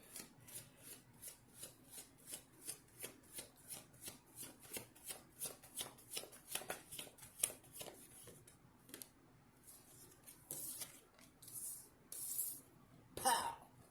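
Tarot cards are shuffled in a quick, regular run of soft riffling strokes, close and quiet, then a few looser rustles and a clack near the end.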